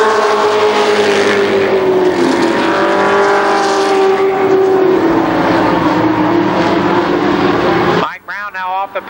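Race cars lap an oval track at Columbus Motor Speedway in an ARCA Pro 4 heat race, engines droning loudly and continuously with a rising and falling pitch, then cutting off sharply near the end.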